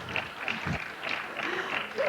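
Applause from a seated audience at a Blake's 7 and Doctor Who convention panel, Visions 95: a steady wash of clapping lasting about two seconds, with a few voices mixed in.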